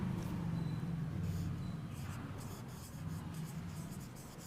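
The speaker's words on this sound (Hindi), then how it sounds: "पहले प्लीज़ लिखेंगे" Pen strokes scratch steadily across paper as the word "please" is written out, a continuous close, quiet scribbling with no talking over it.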